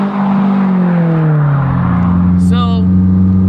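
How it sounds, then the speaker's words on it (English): An AP1 Honda S2000 with an S-Polar exhaust and a test pipe drones loudly and steadily from inside the car, its tone easing slightly lower, while people talk over it. "It's the S-Polar exhaust. S-Polar, yeah, it sounds very nice."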